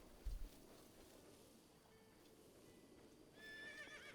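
A horse named Knight in the video game Zelda: Breath of the Wild gives a single short, low snort or whinny near the start, followed by faint ambient game sounds and a brief tonal chime at the end.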